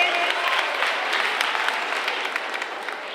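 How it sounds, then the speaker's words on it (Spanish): A school crowd at a Halloween festival claps steadily in sustained applause, dense and even throughout, with no break. "Un aplauso para ellos."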